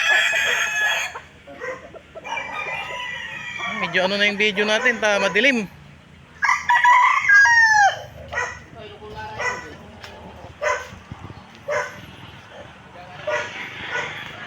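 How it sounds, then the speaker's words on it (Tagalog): Roosters crow loudly several times amid clucking hens and a dog barking, while someone talks over the noise of a chicken farm. "Yan maraming manok dyan."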